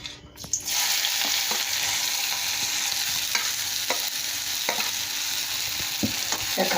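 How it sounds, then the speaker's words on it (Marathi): Chopped onion and green chilli sizzle and fry in a hot pan, a steady loud crackle punctuated by periodic scrapes and clicks of stirring, with no talk. "या कांद्याला चांगलं तांबडं होऊ द्यायचं आहे। कांदा परतला सोबतच आपण त्याच्यामध्ये मिरची सुद्धा टाकणार"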